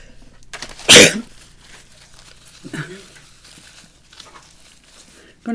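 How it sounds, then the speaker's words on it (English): One loud, sharp sneeze bursts out close by, surrounded by quiet room noise and faint murmuring. "having a sneeze"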